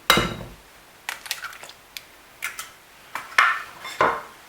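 Eggs being mixed one at a time into cake batter in a bowl, heard as a series of sharp clinks and scraping knocks of a utensil against the bowl, irregular and close, with no talking.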